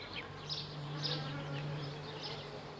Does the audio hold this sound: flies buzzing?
yes